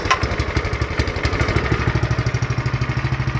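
Small lawn mower engine running with the choke on, a steady close, loud putter whose rapid regular firing pulses grow more even and distinct toward the end.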